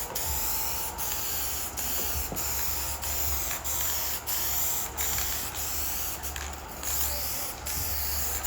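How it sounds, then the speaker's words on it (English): An aerosol spray can hisses in a steady, close burst that runs almost without pause, with a few brief interruptions as the nozzle sputters. "Just got to get the nozzle turned the right way to where it actually sprays something."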